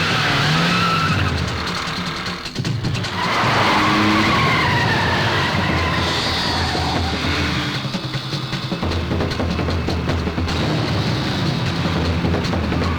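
Car tyres skid and screech loudly in an action scene from a Hindi-dubbed South Indian film, a harsh squeal that holds nearly unbroken for over twelve seconds over a rumbling engine.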